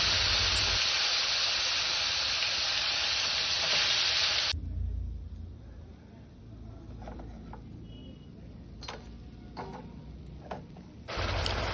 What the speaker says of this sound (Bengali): কড়াই গরম হওয়ার পর কড়াইতে দিয়ে দিলাম তেল দিয়ে মাছগুলো তেলে ছেড়ে দিলাম।